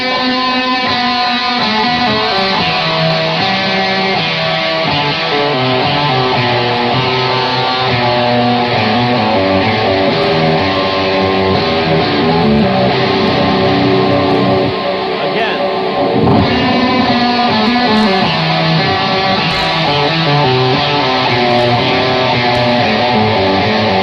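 A lick is played slowly on an overdriven electric guitar, with sustained notes moving one into the next over a long, steady, loud stretch and no voice on top.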